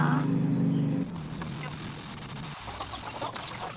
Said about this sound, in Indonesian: Ayam bereaksi terhadap rangsang, yaitu ketika kita mendekat, mereka akan menjauh.